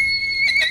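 A horse kept by Forest Service members near Butte, Montana gives a short, high, shrill whinny. It sounds close and loud, and the brief call trails off at the end.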